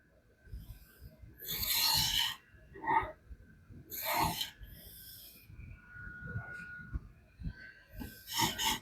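A knife blade rasps across a diamond sharpening plate in several short, irregular strokes, close and fairly quiet, with pauses between passes.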